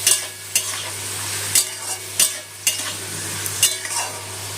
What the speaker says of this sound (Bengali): নুনটা দিয়ে গাজর বিনসকে মিশিয়ে ভেজে নেব